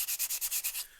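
Fine sandpaper rubbing back and forth over a handmade wood craft piece, about seven even strokes in a steady rhythm, close and alone, the last stroke trailing off.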